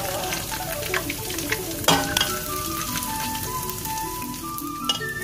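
Garlic and ginger frying in oil with ground nihari spice mix for Lahori-style nihari, a steady close sizzle with occasional stirring clinks and scrapes throughout, no talking.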